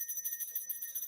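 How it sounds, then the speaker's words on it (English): A dinner bell ringing rapidly and continuously, a bright, high-pitched metallic tinkle with steady repeated strikes, fairly faint and heard alone. "Is that the dinner bell?"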